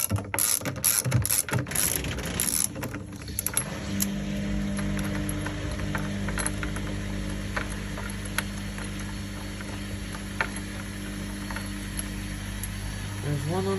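A ratchet clicks in quick bursts while undoing tight screws on a Grundig FIBERCatcher being taken apart, close up, giving way to a steady mechanical hum afterward.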